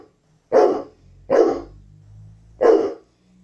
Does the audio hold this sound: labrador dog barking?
yes